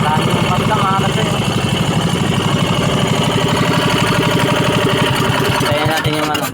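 A boat engine idles steadily at a village fiesta, a loud continuous mechanical drone that holds from start to finish.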